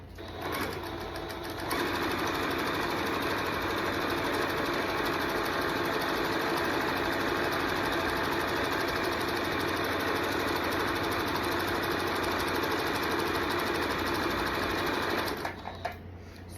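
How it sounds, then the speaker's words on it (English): A sewing machine stitches a reversible tote bag, running steadily and loudly for about fourteen seconds between short quiet pauses at the start and end, sewing forwards and then in reverse. "So I'm gonna sew forwards and then I'm gonna reverse."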